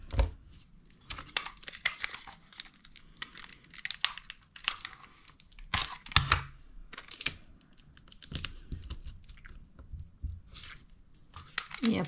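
Adhesive tape is pulled and torn in several quick, crackling bursts while fastening skewers for a paper-crafting project made with cutting dies; the sounds come close and sharp, separated by brief pauses with no talk.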